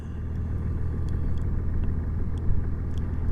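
A car cruising along US 87 between Dalhart, Texas and Raton, New Mexico, a steady low road and engine rumble with wind noise, continuous and close inside the vehicle.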